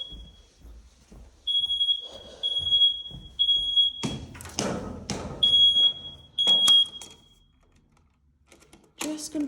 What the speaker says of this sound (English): So the smoke alarm keeps going off.